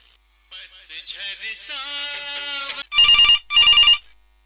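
Two bursts of a bright electronic telephone ring, each about a second long, following a short stretch of music-like tones, on a radio phone-in programme.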